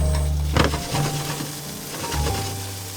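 Foraged wild chestnuts sizzle in a pan during van-life cooking, a steady close frying hiss with a couple of louder stirring scrapes.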